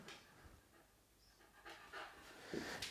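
A dog pants in quick, breathy bursts close by, the rhythm strengthening toward the end between moments of handling noise, with no talk over it.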